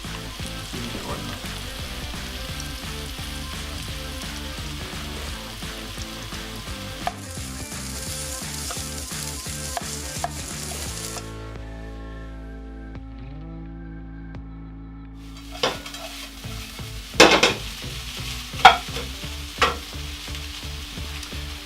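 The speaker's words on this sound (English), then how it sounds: "This is starting to sizzle away now." Frozen mince sizzles in a pan while being stirred, with scraping strokes and clinks over a steady fry; the sizzle dips into a quieter stretch midway, then returns with louder bursts of stirring near the end.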